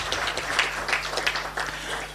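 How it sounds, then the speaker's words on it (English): Applause from the audience at a Pan-African climate financing forum, a dense patter of clapping lasting a couple of seconds, moderately loud over a steady low electrical hum. "A clap for him."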